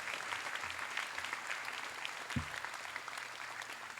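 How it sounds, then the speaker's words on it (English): An audience at a school class night applauds Key Club members with steady, continuous clapping from a crowd, moderately distant, with a brief low thump partway through. "Big round of applause for our Key Club members."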